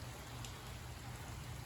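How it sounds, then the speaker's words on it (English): Rain falls outside on a cold, nasty day, a faint, steady patter and hiss with a low hum underneath, brief and unbroken. "Oh, that rain, man, just freaking nasty"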